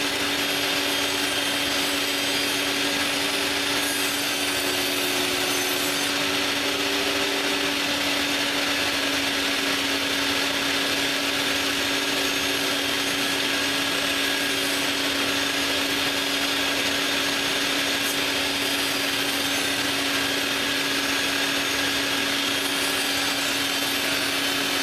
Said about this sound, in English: I'm now taking to the table saw and cutting the final dimensions.